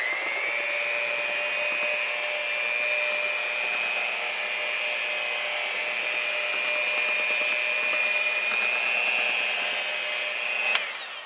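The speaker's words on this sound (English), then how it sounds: "And now we're going to go ahead and mix." An electric mixer whirs steadily through lemon lime loaf cake batter flavoured with lemon extract, a loud, continuous high-pitched motor whine lasting about eleven seconds before it clicks off.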